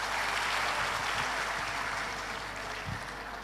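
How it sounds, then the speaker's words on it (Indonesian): Applause from an audience of young people at a talk show event, a dense, even wash of clapping heard alone that fades slightly toward the end. "Boleh tepuk tangan dulu untuk teman-teman."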